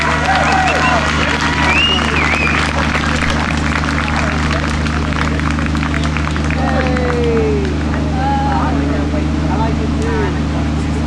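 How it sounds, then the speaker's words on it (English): An outdoor crowd at an anti-geoengineering rally near Hyde Park and Marble Arch in London claps for a poet, a steady spread of applause mixed with crowd noise and a constant low hum, with voices scattered through it. "Can we give her another round of applause?"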